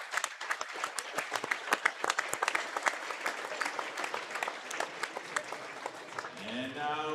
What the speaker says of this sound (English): Please stand and show your appreciation by giving a big round of applause to these outstanding officials.